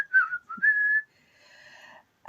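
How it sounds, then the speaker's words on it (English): A person whistles a short, clear tune up close, a few sliding notes, then a pause and a softer, fainter whistled phrase trailing off. "said the footman, and began whistling."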